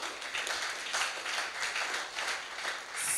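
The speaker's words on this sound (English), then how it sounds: "I think it deserves a round of applause" Audience applause at a university session with the Vice Chancellor, a moderate, evenly sustained patter of many hands clapping that swells slightly toward the end, with no talking over it.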